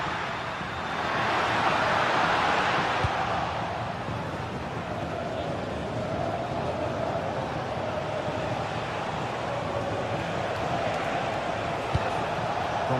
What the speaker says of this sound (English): The crowd certainly think so. Just listen to them.